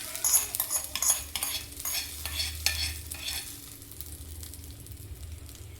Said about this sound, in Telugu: ఆవాలు, జీలకర్ర, కరివేపాకు, ఎండుమిర్చి వేసి చట్నీకి పోపు పెట్టేస్తాను